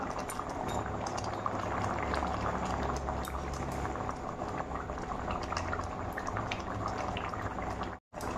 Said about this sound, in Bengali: আর একটু ফুটিয়ে তারপর নামিয়ে নেব।